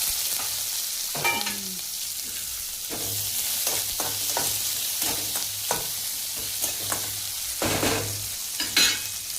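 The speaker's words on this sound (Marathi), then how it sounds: "तेल टाकून घेतले. त्यात मोहरी टाकून घेऊया. त्यात कांदा टाकून घेऊया." Onions and mustard seeds fry in hot oil while being stirred, a soft continuous sizzle broken by repeated scraping and clattering strokes of a spoon against the pan.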